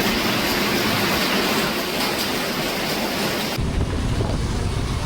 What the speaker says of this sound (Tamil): தென்னை மரத்தின் அசைவை பார்த்தாலே உங்களுக்கு தெரியும் காற்றினுடைய வேகம் எப்படி இருக்கிறது